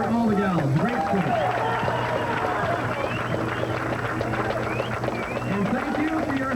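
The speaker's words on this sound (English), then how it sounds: "Again, a big round of applause for all the gals." A crowd at an outdoor car club cruise and auto show applauds in a steady wash of clapping under someone speaking over it.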